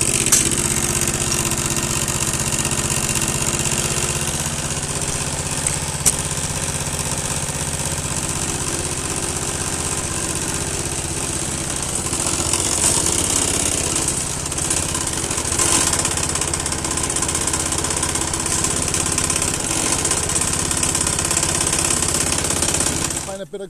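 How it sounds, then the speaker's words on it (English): An Allett Buffalo 24-inch cylinder mower with a Honda GX160 engine runs steadily and loudly throughout, holding a constant droning engine note with a faint mechanical rattle. "Let me start them up. It's got a famous Honda GX160 engine on it."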